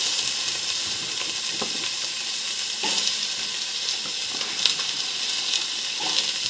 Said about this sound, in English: I'm going to start putting in the onion and the meat and let it sear